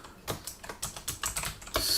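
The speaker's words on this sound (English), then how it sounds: "I keep hitting the wrong dang keys" Fast, uneven keystrokes on a computer keyboard, close and clear, with short pauses between bursts of clicks and a heavier flurry near the end.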